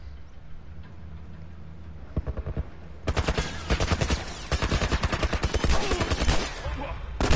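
Turret gunfire in The Last of Us, starting with a few scattered shots and building into a loud, rapid run of automatic bursts that keeps going to the end.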